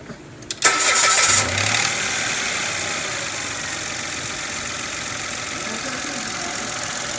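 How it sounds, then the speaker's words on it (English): Modded three-cylinder car engine cranks briefly and catches, then settles into a steady, throaty idle that runs on unchanged nearby. "Well, let's fire it up and see what we got."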